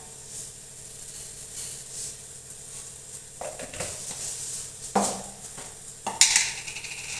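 Mustard seeds dropped into hot oil in a pan on a gas stove, with a soft steady sizzle broken by several sharper crackling bursts as the seeds hit and begin to pop.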